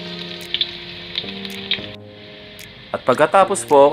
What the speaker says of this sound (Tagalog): Painit po ng mantika, una po nating ilagay ang luya.